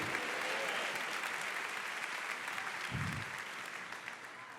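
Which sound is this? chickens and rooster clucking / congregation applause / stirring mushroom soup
congregation applause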